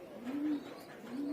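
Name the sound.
pigeons cooing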